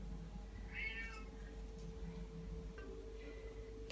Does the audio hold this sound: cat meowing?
yes